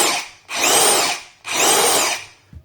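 A DeWalt DCF964N cordless power tool runs in two loud, close whirring bursts of about a second each, with brief pauses between them and no talking.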